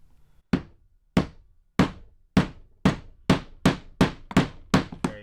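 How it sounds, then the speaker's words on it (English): A mallet drives spiked fasteners into a projector mount in about nine sharp, ringing knocks. The blows land close and evenly spaced, roughly half a second apart, and speed up slightly toward the end, with no voices. "and then I'll just take my mallet."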